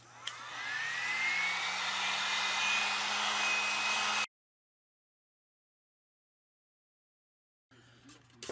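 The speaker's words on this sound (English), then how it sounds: "I'm going to blow dry this." Hair dryer blow-drying polymer clay, a loud steady airy roar with a rising whine that runs for about four seconds, then cuts off to silence before faint handling noise returns.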